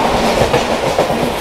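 The Golden Temple Mail rolls along the rails with a loud, close, steady rumble and a rhythmic clickety-clack of wheels over the track joints, with no voices.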